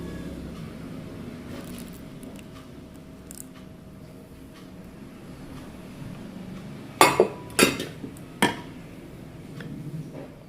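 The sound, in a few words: stirring butter into keto cake batter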